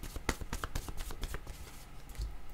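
Playing cards shuffled close up in quick riffling bursts, a string of crisp snaps and flutters that thin out toward the end, with no voices.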